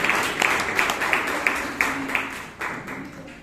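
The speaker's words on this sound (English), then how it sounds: "Give a big round of applause for Toastmaster Sana." An audience at a Toastmasters club meeting in Bangalore applauds with steady, dense clapping from start to finish, with a few louder individual claps standing out.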